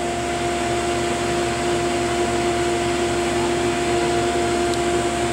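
An Anatech Hummer 6.2 sputter coater runs with its chamber vacuum pump on, giving a steady, loud mechanical drone with a constant tonal hum throughout and no speech.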